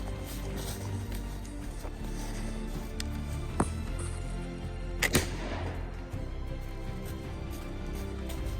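Eighteenth-century musket fire outdoors: a few sharp, distant cracks stand out over a steady, dense background rumble. One is isolated, then two come close together, with no clear speech.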